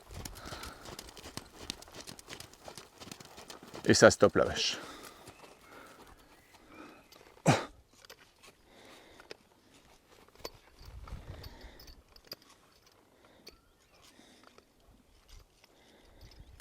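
A horse works cattle in a ranch training session, its hooves giving soft, scattered clip-clops on the ground, a few louder thuds standing out, under brief quiet French speech.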